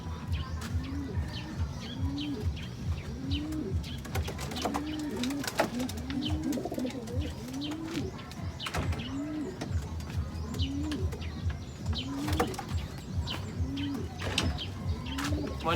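Racing pigeons coo nearby in repeated soft, throaty rolling calls at an uneven rhythm, with faint chirps and small rustles in the background and no talking.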